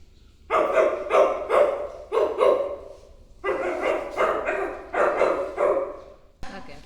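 During a family mimicry game at home, a person's voice imitates a barking dog with a run of loud, rhythmic woofs in two bursts and a brief pause between them.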